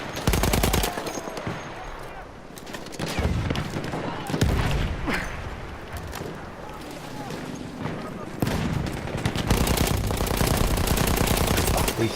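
A Battlefield 1 Apocalypse DLC gun fires in long rapid automatic bursts from the hip, loud and close, mixed with battle noise and someone talking over the shooting.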